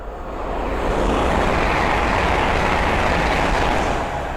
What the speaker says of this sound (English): the next train to pass by is a Hull train 800 from London King's Cross to Harrogate